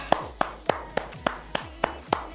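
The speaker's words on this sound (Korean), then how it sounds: "박수 한번 드릴게요." Sharp, evenly spaced claps about every third of a second, a short run of rhythmic applause from a few hands, fairly close.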